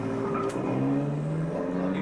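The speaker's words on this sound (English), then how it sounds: "that's a car" A car engine hums steadily, with its pitch slowly rising and falling, playing from a sound effects tape. It is fairly loud, continuous and heard on its own.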